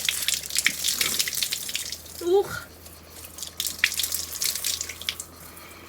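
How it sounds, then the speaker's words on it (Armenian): Splashing, dripping water from a mountain spring as someone washes their face outdoors, a steady hiss of flowing water with intermittent splashes and a brief exhaled exclamation. "մի հատ երեսս լվամ։"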